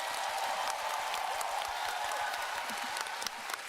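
Faint, distant applause from a fan festival audience watching a keynote, a thin, steady patter of clapping lasting a few seconds with little else audible.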